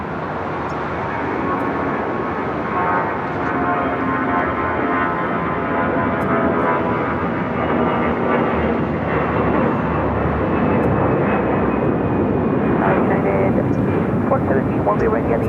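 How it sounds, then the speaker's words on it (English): Air Tahiti Nui Boeing Dreamliner jet at Los Angeles LAX airport, a loud, sustained roar of jet engines that holds steady throughout, with a voice talking over it. "That's the Air Tahiti Nui Dreamliner."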